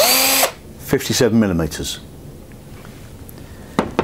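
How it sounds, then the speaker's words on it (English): A hole saw drills out a closed boss on a plastic waste pipe in one loud, brief whirring burst at the start, followed by someone talking and a short tool noise near the end. "it's easy to drill out the closed bosses using a hole saw between 50 and"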